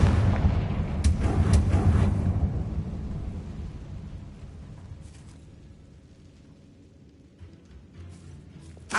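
A Confringo fire blast spell in the Hogwarts Legacy video game, a heavy booming burst that rumbles loudly for about two seconds and then slowly fades, followed by a few faint thuds.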